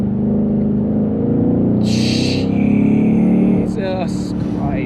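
A BMW M850i xDrive with a 530 horsepower twin-turbo V8 accelerates hard in sport mode, its loud engine note building close by inside the cabin, with brief excited voices breaking in over it toward the end.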